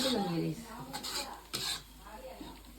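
Spiced rice seasoned with salt and turmeric is stirred and tossed with softened onion in a pan, a soft sizzle broken by scraping spoon strokes, while voices talk nearby in a home kitchen.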